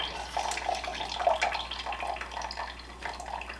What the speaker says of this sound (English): I'm just going to start ladling this in here and straining it out.